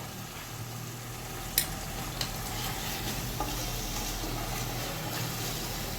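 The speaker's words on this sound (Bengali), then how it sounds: "এখন আমি তেলের মধ্যে ভালো করে মশলাটাকে কষিয়ে নেব" Cumin, red chili and turmeric powders fry in oil in a pan for a Bengali rohu fish curry, giving a continuous soft sizzle with a few sharp clinks of a spatula being stirred.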